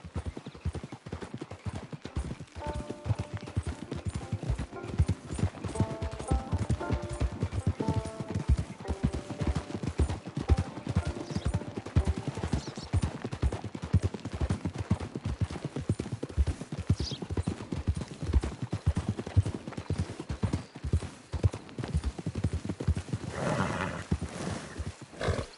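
Horse hooves clip-clop steadily in a cowboy video game, a continuous rhythmic trot heard up close over a musical score, with occasional animal calls in the background.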